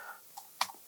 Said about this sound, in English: coming here to the search bar and just typing in